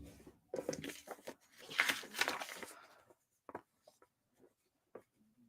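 Paper for a scrapbook layout is trimmed with a cutter, giving a close rasping slice lasting a couple of seconds, then a few quieter scattered taps and rustles.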